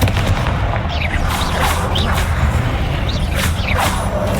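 Repeated Confringo fire-spell blasts in the video game Hogwarts Legacy, several booming impacts with whooshing bursts over a dense continuous bed of combat noise.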